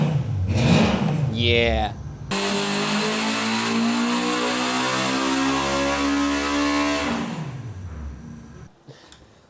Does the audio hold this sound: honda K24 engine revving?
yes